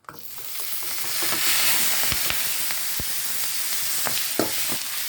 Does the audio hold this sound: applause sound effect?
no